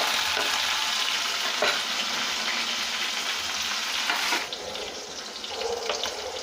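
Five or six green chillies fry in a pan for egg rice, a dense close sizzle that hisses steadily, then drops slightly and settles into softer crackling; no one speaks.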